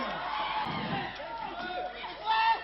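Wrestling crowd at a lucha-style bout cheering and applauding, a dense, steady roar with shouts rising toward the end, under a commentator's talk.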